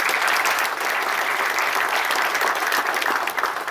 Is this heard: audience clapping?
yes